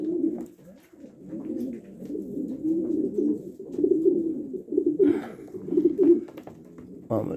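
Racing pigeons coo steadily in a loft, a continuous low throaty burbling from several birds close by, with a brief flutter or scuffle near the end.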